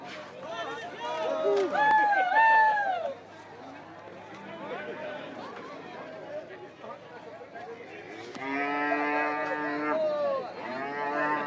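A bull that jumped a farm gate moos loudly in a few drawn-out calls, some near and strong, over continuous outdoor chatter and people talking on the farm.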